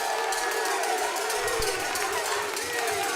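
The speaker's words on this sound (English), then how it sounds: "LPG and Lingas both have 11 points. A round of applause." Audience applause for quiz teams tied on points at a gas challenge semi-final between university teams, a dense steady wash of clapping and crowd noise filling the whole stretch without letup.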